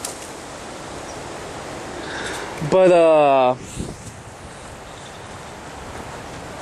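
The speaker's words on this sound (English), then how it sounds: "It's a pretty windy day out here" Steady wind buffets the microphone with a broad rushing roar throughout, briefly broken by a short spoken word midway.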